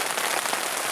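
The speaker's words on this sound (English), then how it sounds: "hope you can hear me above the rain" Steady rain falling outdoors, a dense, constant loud hiss of drops striking surfaces with no pauses.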